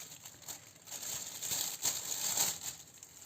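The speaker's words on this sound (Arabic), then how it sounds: "وبجيب كيس، بصوا بحطه كده" Plastic bag crinkling and rustling close by as it is handled and laid over a plain lid used as a burger press, with soft irregular crackles rising and falling over a few seconds.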